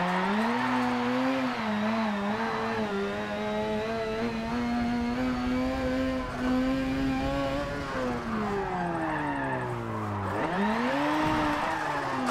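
A Mazda RX3 drifts in the Forza Motorsport 7 racing game, its engine droning loudly with shifting pitch while tires squeal in long sliding bursts, the revs dipping and climbing again toward the end.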